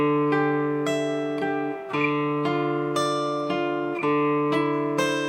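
Guitar chord progression in a pedal-tone style played slowly, with the open 4th string ringing as a steady drone beneath about nine plucked, sustained chord changes at an even, unhurried pace.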